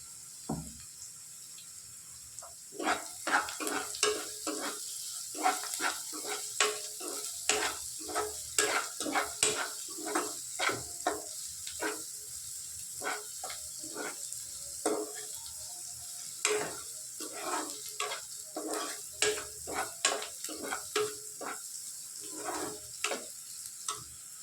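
Onion pieces sizzle in a pan as they are stirred with masala for pulusu, a long string of quick scraping strokes over a soft, steady frying hiss, close by with no talking.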